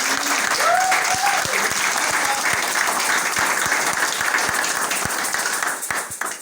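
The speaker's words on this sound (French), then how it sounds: "On peut applaudir pour Nkaka." Steady audience applause for Nkaka at a political gathering on federalism in the DRC, dense clapping from a crowd filling the room, sustained at an even level and tapering slightly at the end.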